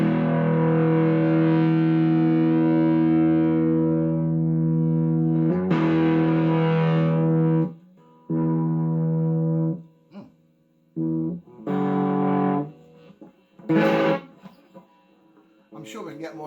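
A Gretsch G5435T Electromatic Jet electric guitar plays a long ringing chord that decays, followed by a series of shorter strummed chords and stabs separated by gaps, amplified with some drive and room echo.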